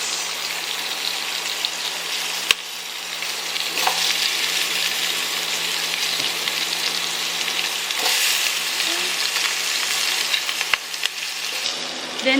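Sliced onions fry in a hot pan, a steady hiss and crackle that runs unbroken at close range with a few faint clinks over it and no voices.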